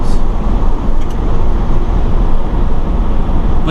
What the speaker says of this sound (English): I hear a lot of wind noise.